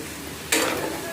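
Sliced snake gourd hits a hot pan, a sudden loud sizzle bursting in midway and continuing steadily after a quiet start.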